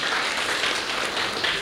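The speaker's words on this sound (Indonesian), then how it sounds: "Tepuk tangan buat Kang Rizky ya" Applause from an audience at a graduation ceremony for Quran memorizers at an Islamic boarding school, a dense, steady clapping that fills the short stretch at even loudness.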